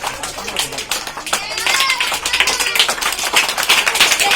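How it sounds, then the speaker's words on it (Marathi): A group of people claps together at a birthday gathering for a woman, the dense, continuous applause building slightly louder partway through, with talk mixed in beneath it. "चला सर्वांनी आता टाळ्या थांबवायच्या."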